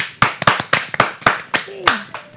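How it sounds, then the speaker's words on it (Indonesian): Several quick hand claps ring out in a brisk, uneven rhythm, close and fairly loud, with a brief voice sounding near the end. "Wih, tepuk tangan dong."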